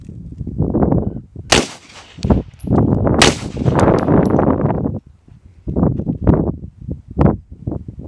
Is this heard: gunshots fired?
yes